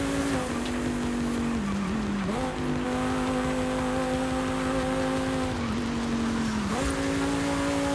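Car engine in Forza Horizon 5 drones steadily at high revs, dipping briefly at a few gear changes before climbing again, loud and continuous with no talking.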